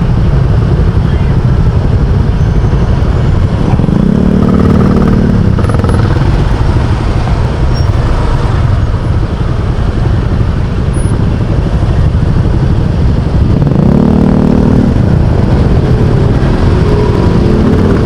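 Dense road traffic near the Molino III flyover in Cavite, with cars and motorcycles idling and revving in a steady, loud wash of engine noise throughout, and a couple of brief engine swells passing close by.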